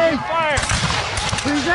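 A loud, close musket volley booms out during a Revolutionary War reenactment battle, the blast ringing on under shouted voices.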